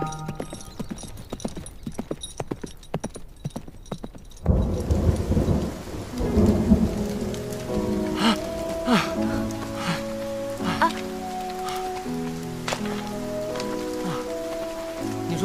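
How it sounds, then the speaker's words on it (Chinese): Heavy rain pours outside during a storm, a steady dense hiss that swells after a few seconds and runs loud and continuous, with brief sharp knocks and faint tonal sounds layered on top. "外面还下这么大雨"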